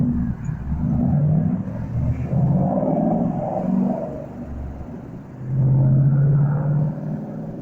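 A car rumbles past outside a window in Los Angeles, a steady low engine drone that swells and fades, with a louder pass near the end, no voices.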